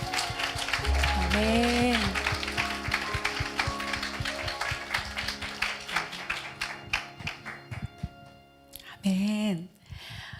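A congregation at a Friday night prayer meeting in a Korean church gives sustained applause. The dense clapping runs for several seconds under a low sustained keyboard tone, then thins out as a voice sings and speaks near the end.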